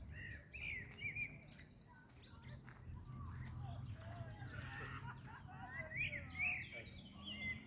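Birds sing and chirp beside a lake in Europe, with scattered high twittering calls repeating throughout, faint and somewhat distant over a low steady background rumble.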